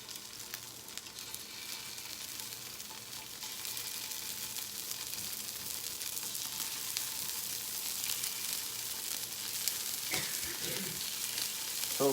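Scallops searing in a very hot pan give off a steady, bright, close sizzle that holds evenly throughout, with a few small crackles and spits near the end.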